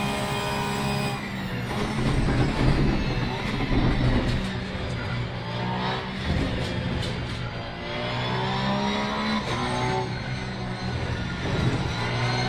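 Race cars in a multiplayer racing video game keep up a steady, loud engine roar with shifting pitch, continuous and dense for the whole stretch, with no talk over it.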